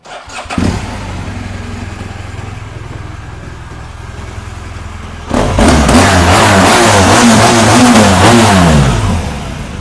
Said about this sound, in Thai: ลองฟังเสียงเครื่องยนต์กันดูครับ